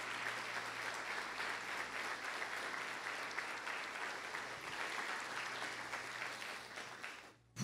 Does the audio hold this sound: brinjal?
no